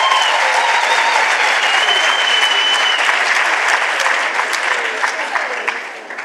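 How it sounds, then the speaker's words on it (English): A large audience at a university State of the University address gives the choir a sustained, dense round of applause that holds steady and then tapers off toward the end. "Can we give another round of applause to the choir?"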